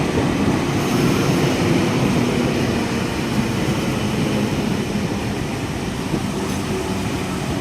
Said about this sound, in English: We have a K set arriving on platform number 1 at Casula for a City Circle Fire Granville service.